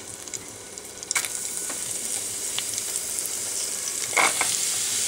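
Onion and garlic fry with browned cumin seeds in oil, a close steady sizzle with intermittent spoon scrapes and a brief louder crackle near the end, no one speaking.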